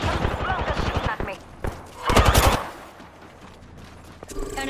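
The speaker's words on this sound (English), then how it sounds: "Blunker shooting at me." Enemy gunfire in the battle royale game Apex Legends: a rapid run of sharp shots up front, then a louder burst around the midpoint and a final short volley, with game effects filling the gaps.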